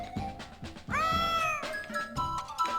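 A cat meows repeatedly in the game Super Tempo over a plucky, rhythmic backing tune, with a long drawn-out tonal meow in the middle and shorter ones around it.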